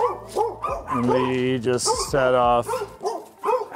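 Barking and yipping from a neighbor's three dogs, fairly close and repeated in short bursts, mixed with someone talking over it.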